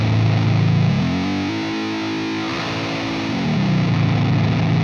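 Heavy distorted electric guitar riff run through a pitch shifter set down an octave, loud and sustained with chugging, droning low notes and a thick effected tone throughout, no talking.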